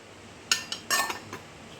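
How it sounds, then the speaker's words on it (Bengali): A detox drink container is covered, giving a few quick close clinks and a brief scrape of a lid against the vessel, then quiet. "তো এখন আমি সেই জন্য এরকমভাবে ঢেকে রাখছি।"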